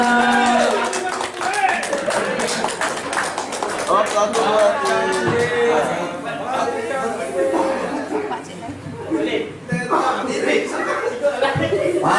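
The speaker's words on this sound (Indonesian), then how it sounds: "Tepuk tangannya." A group on a fun tour to Lawang Park and Pariaman claps hands after singing happy birthday, brisk rapid clapping mixed with chuckles, laughter and lively chatter, loud and close for most of the stretch.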